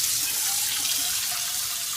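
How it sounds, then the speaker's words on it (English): Cold water runs from a kitchen tap into a sink after pan-cooking, producing a steady, close hiss that stays even throughout with no talk. "Put on cold water."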